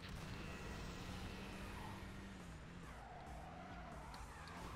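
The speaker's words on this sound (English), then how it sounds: "God, these cars all suck at turning." Cars driving and skidding in the racing video game Midnight Club 2, a continuous engine drone with tire squeal sweeping through, steady and fairly loud without speech.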